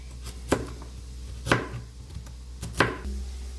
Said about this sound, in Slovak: A mrkvu a petržlen si nakrájame na takéto časti, polmesiačiky.